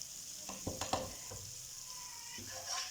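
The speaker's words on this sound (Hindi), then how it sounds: "तो ये देखें अच्छे से इसको फ्राई होने तक ऐसे कर लेंगे" Masala fries in a pan while being stirred, a sustained sizzle broken by a few sharp scraping strokes of the spoon near the start, close and moderately loud.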